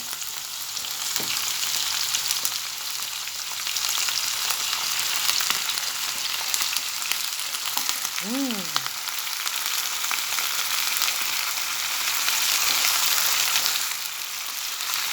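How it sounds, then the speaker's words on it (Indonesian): Food frying in a pan gives a steady, loud sizzle that runs throughout, with a brief tonal squeak near the middle and no talk. "Ini masukkan aja biar agak-agak kayak digoreng kayak gitu."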